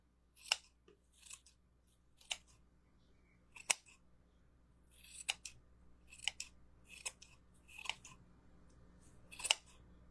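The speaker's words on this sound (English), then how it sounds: "And then I'm just going to go in and start trimming" Scissors snip through raffia and fabric on a wooden-slice Valentine's heart collage craft, giving about ten crisp, separate cuts at an uneven pace, close and clear against a quiet background.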